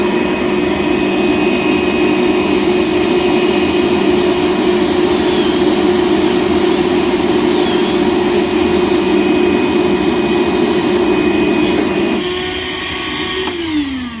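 A loud, steady whine of a vacuum running with a droning motor tone while a muffler bolt hole is drilled, shifting pitch near the end as the machine changes load.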